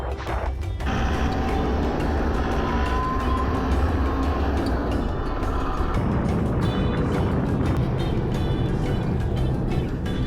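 A vehicle towing a DIY tiny trailer house drives along a snowy road, its engine and road rumble steady and loud throughout, with a low drone and continuous tire noise that shifts slightly partway through.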